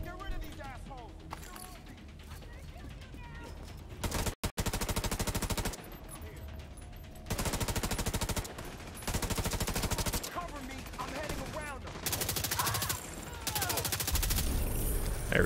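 Rapid automatic bursts from a Tommy gun in The Division 2: Warlords of New York, sharp fast rattling volleys in several long strings separated by short pauses, loud and close, with quieter game ambience and effects between bursts.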